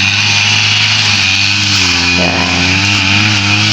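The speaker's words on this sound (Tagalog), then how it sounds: "Ito na nag-grass cutter si kapakner." A grass cutter drones loudly and steadily in a calamansi orchard, its engine note holding constant and dipping briefly in pitch partway through, with a short spoken word over it.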